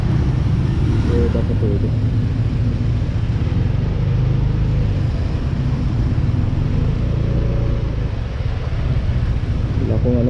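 A Yamaha Aerox scooter-style motorcycle being ridden, its engine a steady, loud, close rumble mixed with road and wind noise throughout, with a rider talking over it.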